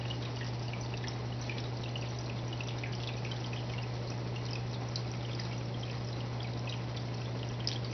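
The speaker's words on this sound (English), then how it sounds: "it's fresh water going straight in" Fresh water pours steadily into an aquarium sump, making a continuous splashing rush that stays level and unbroken throughout, with no talking over it.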